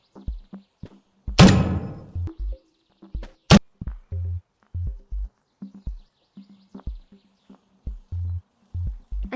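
In the Animal Company VR game, a grenade launcher fires with a sharp burst and a second crack, followed by a string of dull thunks and thuds, all loud and close.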